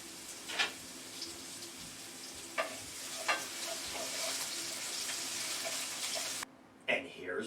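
Potatoes frying in honey garlic butter in a pan over medium heat, a steady moderate sizzle with a few sharp stirring knocks, cutting off abruptly near the end.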